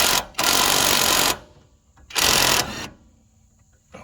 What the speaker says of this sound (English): 1/2 inch stubby impact and my 24 millimeter wrench with a 24 millimeter long socket to get this